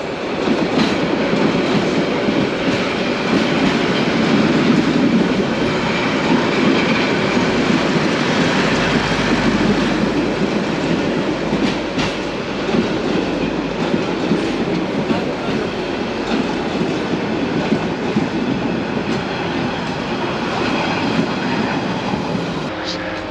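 A passenger train in Bangladesh rumbles past steadily with a dense, roaring rattle of wheels and cars, loud and close throughout.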